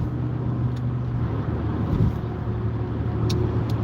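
Truck rumbling along a road while a car draws alongside and passes it, a steady low engine drone with a brief swell near the middle and a few faint high hisses, no talk.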